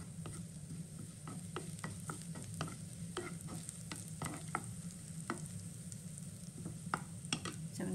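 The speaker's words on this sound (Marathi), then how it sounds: "त्याच्यामध्ये तीळ घालायचे पांढरे. थोडंसं परतून घ्यायचं ते." White sesame seeds sautéing in a pan: a quiet, constant frying hiss over a low hum, punctuated by frequent crisp utensil taps and scrapes that grow busier toward the end.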